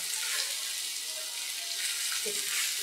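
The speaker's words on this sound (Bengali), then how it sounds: "এই ঘিয়ের মধ্যে দিয়ে আমি ভেজে নেব" Paneer cubes frying in ghee on a tawa, a steady hiss and sizzle with faint crackles running continuously at close range.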